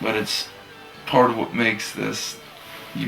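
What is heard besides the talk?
No everyday noise stands out behind the speech.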